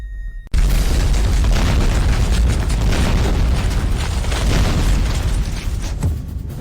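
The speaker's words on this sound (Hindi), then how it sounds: "यह ताबूत सीधे धमाके से फट गया" A coffin bursting apart in an explosion: a sudden loud boom after a brief quiet moment, followed by several seconds of dense, roaring blast noise that slowly eases off.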